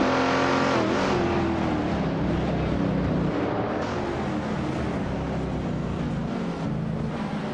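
Video game race cars led by a classic 1965 Ford Mustang pulling away from the start, engines droning loudly together with rising and falling revs as they accelerate, a thick continuous roar throughout.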